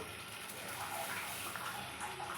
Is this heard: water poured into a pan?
yes